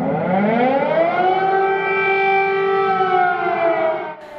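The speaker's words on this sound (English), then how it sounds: "with air raid sirens sounding over the capital, Kyiv" Air raid sirens wailing over Kyiv, a loud steady civil defense siren tone that rises and holds a long sustained pitch, then cuts off near the end.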